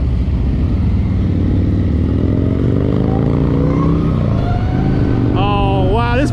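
A Harley-Davidson LiveWire electric motorcycle under way gives a smooth motor whine that climbs steadily in pitch over heavy wind rush, with a voice briefly breaking in near the end.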